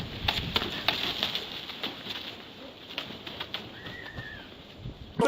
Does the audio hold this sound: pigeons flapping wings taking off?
yes